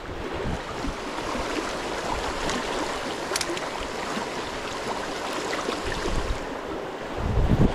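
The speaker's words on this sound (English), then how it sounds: "It's kind of windy." Wind blows across the microphone beside a trout stream, a steady rushing buffet with a brief sharp tick midway and a stronger gust at the end.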